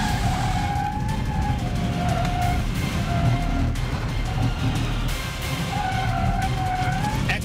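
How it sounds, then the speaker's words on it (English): Car tires grind and squeal under understeer while driving, a steady roaring engine and road rumble with recurring high tire squeal, loud and close throughout. "Hear that grinding noise? Yeah. That's the understeer on the car."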